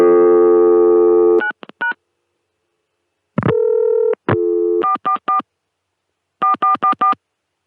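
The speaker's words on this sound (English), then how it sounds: "Now I'm going to try dialing 444 4444." Touch-tone dialing of 444 4444 on a 1980 ConTelNet CCSA telephone line: a steady dial tone cuts off, then clean tone bursts follow in short grouped runs with brief pauses, clear and close with no voices.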